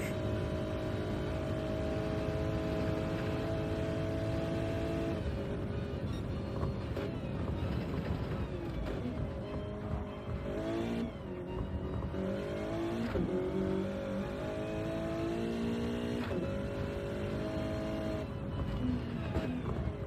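A Toyota GR Cup race car heard on board, its engine revving hard through repeated gear shifts, the pitch climbing and dropping in quick steps across a lap.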